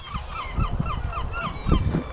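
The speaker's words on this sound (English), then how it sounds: "Seagull's noisy, isn't it?" Gulls calling repeatedly near castle walls on a Conwy waterfront walk, a run of harsh honking cries in a steady rhythm over outdoor background noise, fairly close and loud.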